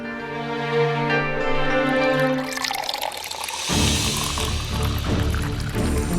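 Water is poured, a steady close splashing and filling sound that grows fuller partway through, loud over faint background with no speech.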